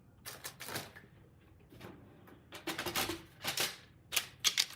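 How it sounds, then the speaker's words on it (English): A paper trimmer slicing through cardstock at a crafting desk: a few separate crisp, scraping cuts and clicks of the blade sliding along, close and moderately quiet, with short pauses between strokes. "Let me grab my paper trimmer."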